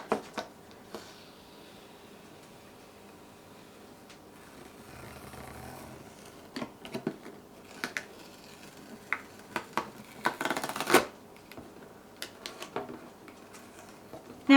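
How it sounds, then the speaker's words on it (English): A label being peeled off a plastic container: close, quiet intermittent crackles and tearing rasps, with a longer ripping stretch near the end and no voices. "now I can just start picking at one of the corners of the label and peel it up"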